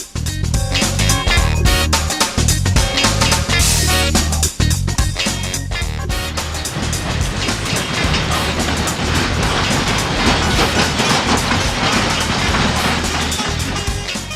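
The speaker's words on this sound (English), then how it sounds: "Most of the locomotives here are of the Polish origin, but also, we can find few made in Germany that were left after the war." Steam locomotives at work in Wolsztyn, Poland, mostly Polish-built with a few German engines left from the war, give a loud, continuous mix of rumbling, rail clatter and hissing, dense and steady throughout.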